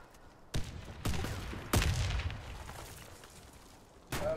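Grenade blast in the Warface shooter on the Chryse map: a few muffled, fairly distant explosive thumps over quiet background, the heaviest landing mid-clip and another near the end, with no talking.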